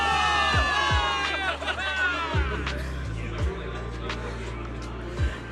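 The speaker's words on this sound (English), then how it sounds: "Give it up for yourselves, soldiers! Cheer for victory!" Soldiers cheering for victory in the game Zenless Zone Zero, a crowd of voices shouting and whooping together at moderate distance, with a few low thuds under the cheering.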